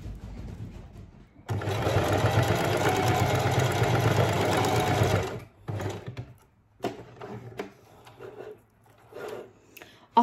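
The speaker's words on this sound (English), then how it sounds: "So now I'm just going to sew down on that, the Velcro to hold that down." A sewing machine stitches Velcro onto small dog clothing, running in one steady, loud burst for about four seconds, then stopping, followed by quieter handling and rustling of fabric.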